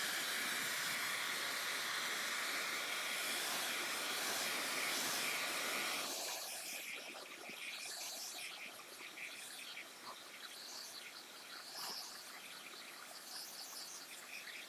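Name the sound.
blow dryer drying paint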